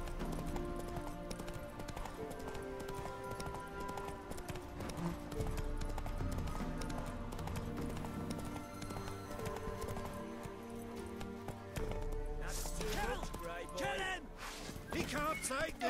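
Horse galloping in The Witcher 3, a steady rapid clip-clop of hooves that runs throughout under game music, with a busier burst of sound near the end.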